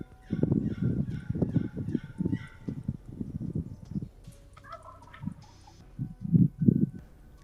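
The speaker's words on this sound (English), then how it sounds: "We could hear the bird gobbling, but he wasn't getting any closer" Deep in Oregon timber, a wild turkey gobbles in a loud, rapid rolling burst that repeats, followed by quieter bird calls and a fainter, closer clucking near the end.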